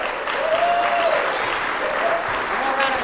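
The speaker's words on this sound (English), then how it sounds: "One round of applause for Vanessa." A business conference audience gives a speaker a round of applause, with steady, full clapping from a large crowd while a few voices and a whoop rise faintly above it.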